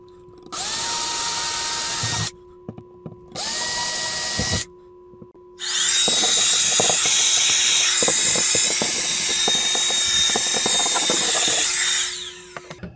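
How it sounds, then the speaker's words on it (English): A power drill whines in two short bursts, pauses, then runs for a long stretch with rattling and grinding as it bores into material. "So let's drill these things first"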